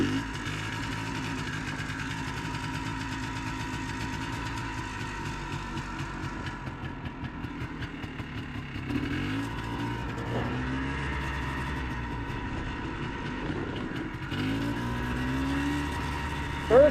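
A rare three-wheeler's engine idles steadily, then surges briefly as the rider brakes and shifts into drive, a continuous mid-pitched drone with a few revving swells, heard alone with no talk.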